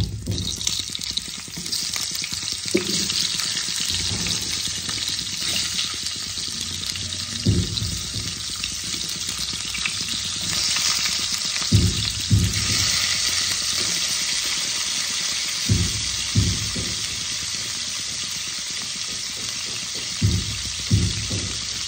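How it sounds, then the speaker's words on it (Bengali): Cauliflower florets and potato pieces frying in oil in a home kitchen, a steady close sizzle running throughout, broken by occasional thuds and scrapes of stirring. "এবার আমি ওই তেলেই ফুলকপি আলুগুলোকে ভেজে নেব।"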